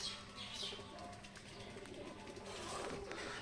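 A pigeon in a breeding loft coos softly a few times amid faint chirps and rustling, quiet and close, with no speech.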